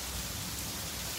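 Steady, dense hiss of rain falling during an outdoor walk in stormy, typhoon-like weekend weather. It is continuous and fairly close, with no talk.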